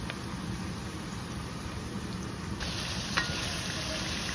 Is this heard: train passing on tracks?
no